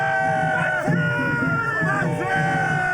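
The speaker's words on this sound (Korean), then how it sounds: "독립을 외치는 커다란 함성이 아산 선장면에 울려 퍼집니다" A large crowd at a reenactment of the 4.4 Asan independence manse movement in Seonjang-myeon loudly chants and shouts in unison, with massed yells rising and falling in repeated waves close by.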